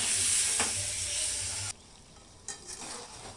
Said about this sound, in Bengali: ধনে পাতা দিয়ে অল্প একটু জল দিয়ে ভালোভাবে কষিয়ে নিতে হবে